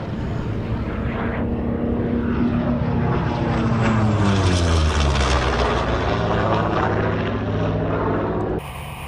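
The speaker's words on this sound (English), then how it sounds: "P38 was followed by Matthias Dolderer in the Corsair" A 1944 Vought F4U-4 Corsair WWII naval fighter roars past at an air show, its propeller engine building to a loud, close drone whose pitch sweeps downward as it passes.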